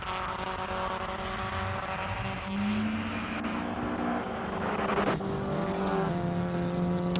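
Classic race cars run on a circuit at Simola, including a Datsun GX Coupe with a 1400 four-cylinder engine. Engines drone and rev steadily at mid distance as cars pass, with no talk over them.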